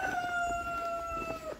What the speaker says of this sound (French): Au moins, il y a un coq.